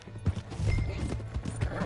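Horse hooves clip-clop in Red Dead Redemption 2, a steady run of close, clear footfalls, joined by a brief whinny and faint voices in the background.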